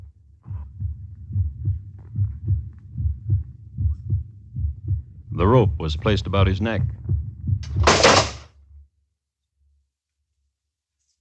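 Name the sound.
pounding heartbeat sound effect in a radio drama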